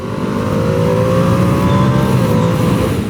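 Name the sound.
2025 Ducati Panigale V2S motorcycle engine accelerating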